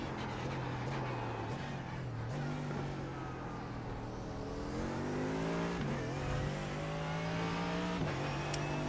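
Porsche race car engine droning steadily at high revs in the iRacing sim, with audible gear shifts and pitch dips, a continuous loud whine with no talk.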